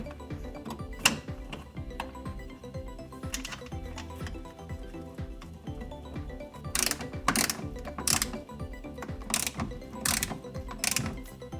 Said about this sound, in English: Okay, I'm going to put these 2 short 8mm screws in.